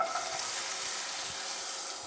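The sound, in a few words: onion frying in oil in a pan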